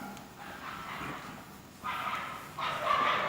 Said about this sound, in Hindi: 12 बजते ही इनका भौंकना जरूरी हो जाता है